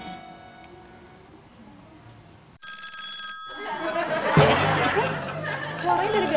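A mobile phone rings indoors during a family comedy show: a short bright electronic ring surfaces through a quiet stretch, then is buried under lively chatter and laughter from several people talking over it.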